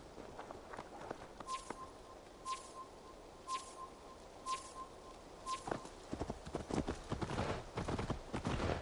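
A horse in the video game Assassin's Creed Valhalla clip-clops in a steady, moderately close hoof rhythm that turns into a faster, denser run of hooves toward the end, with a faint repeated chime in the background.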